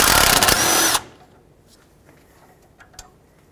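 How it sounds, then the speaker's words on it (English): A power tool removes the brake line bracket bolt on a Toyota Sequoia's front brake, a loud close buzzing whir for about a second that cuts off abruptly, followed by a few faint clicks and small metallic knocks. "disconnect the bolt that holds this bracket on for the brake line"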